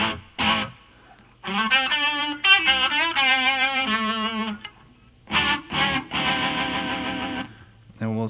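Electric guitar played through a BYOC Super 8 programmable looper with overdrive, vibrato and reverb, sustained wavering distorted notes in two phrases with a pause between, loud and alone.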